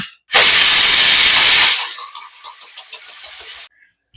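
A loud, sharp blast of hissing steam from a pressure cooker whistle cooking red pumpkin, potato and peanut amti, lasting over a second before fading into a quieter, sputtering hiss.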